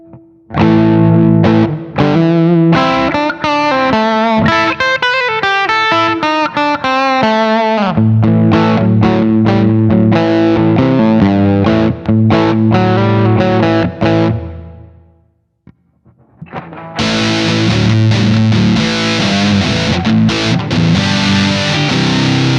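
A Godin Montreal mahogany electric guitar through an overdrive pedal plays loud, distorted riffs and chords, drops to near silence briefly, then returns with sustained crunchy chords.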